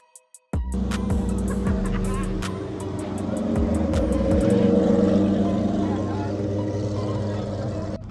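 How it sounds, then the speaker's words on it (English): Naturally aspirated Lamborghini Revuelto V12 fitted with an aftermarket exhaust, firing up at a car show and revving hard, loud and close with sharp crackles and a rising, sustained roar after a few quiet clicks. "revving up his V12 naturally aspirated Revuelto Gentani with the Gentani exhaust"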